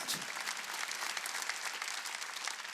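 A church congregation at a Wednesday worship service claps together in a brisk, continuous patter of applause, fairly soft and steady throughout.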